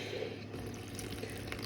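Water poured from a container into a plastic bag on a desk, a steady close, continuous liquid pour lasting under two seconds with no talking.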